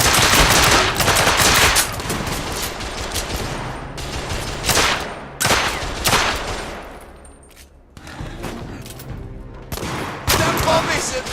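Gunfire in The Order: 1886, loud automatic bursts and single shots in irregular volleys, with brief pauses and an explosive-sounding swell, mixed with faint voices.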